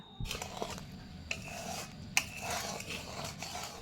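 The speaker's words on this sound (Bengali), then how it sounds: "এবার নেড়ে চেড়ে এই গুড়টাকে সুন্দর করে গলিয়ে নেব" Sugarcane jaggery stirred in a pan over medium-low gas as it melts for chirer moa, with soft scraping and rubbing strokes and a few sharper clinks of spoon on metal, close and fairly quiet.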